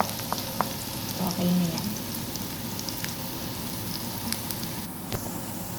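Onion sautés in a pan with a steady, close frying sizzle and occasional stirring clicks, while a voice speaks briefly.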